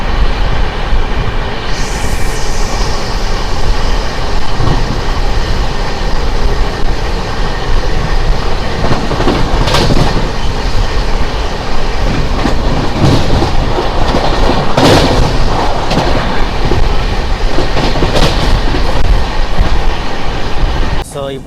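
Charminar SF Express, a 22-coach superfast train on its Chennai to Hyderabad run, rolling along with a loud continuous rumble, rhythmic clickety-clack of wheels on rail joints and occasional sharper clanks, heard from on board.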